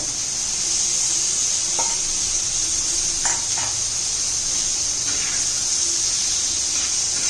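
Egg mixture sizzling steadily in a hot pan, a constant bright frying hiss with a few soft stirring taps, close and fairly loud, no voices.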